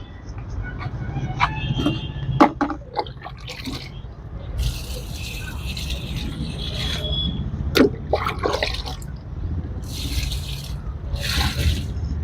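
Water mixed with liquid fertilizer is poured onto trees in a terrace garden: a steady, close wash of splashing and trickling with scattered drips throughout, and a voice talking now and then.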